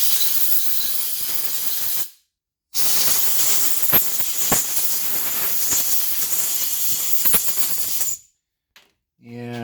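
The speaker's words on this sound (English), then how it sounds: "We're going to blow out the carburetor." Compressed air blasting through a Yamaha Mikuni motorcycle carburetor during cleaning, loud sharp hissing bursts close up, one short burst, a pause, then a long continuous blast with faint clicks, ending in silence and a brief sound.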